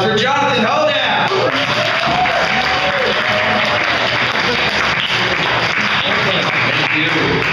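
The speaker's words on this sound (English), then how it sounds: "Warm round of applause for Jonathhan Hodapp." A comedy club audience welcomes a comedian with loud applause mixed with whoops and shouts, a dense cheering crowd that holds steady throughout with voices mixed in.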